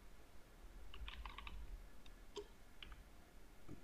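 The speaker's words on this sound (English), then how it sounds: "select preview and type text and press enter" Fingers type on a computer keyboard, a quiet run of light clicks in a brief burst, then a few scattered single keystrokes over a soft room hum.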